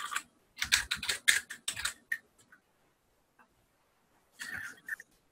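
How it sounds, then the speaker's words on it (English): Quick keystrokes tap on a computer keyboard's number pad: a rapid burst of about ten close clicks, then a few isolated taps and a short final flurry, with quiet gaps between. "I'm typing on the little number section that's on the right side of my keyboard"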